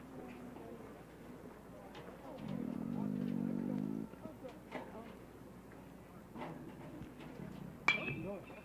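A baseball bat strikes a pitched ball foul during a college baseball game, a single sharp, ringing crack late in the clip over steady ballpark background noise.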